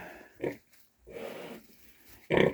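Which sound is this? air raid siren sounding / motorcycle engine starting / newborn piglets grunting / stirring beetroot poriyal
newborn piglets grunting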